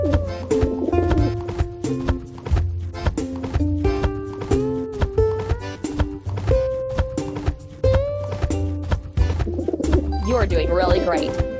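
Cartoon pigeons coo in a children's farm animal game, the soft calls layered under bright background music and a narrator's voice.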